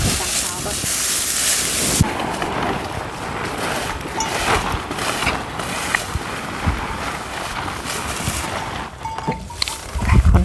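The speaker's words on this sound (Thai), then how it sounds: "ฝนตกพี่น้องเอ้ย" Rain falls on a rice harvest in the countryside, a broad steady hiss with gusty wind noise on the microphone, while someone speaks over it.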